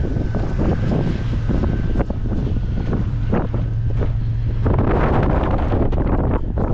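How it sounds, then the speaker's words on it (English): Strong wind buffets the microphone in steady, roaring gusts by a lake at a railroad ghost town in Wheat Basin, Montana, loud and continuous throughout with no voices. "It's windy out there."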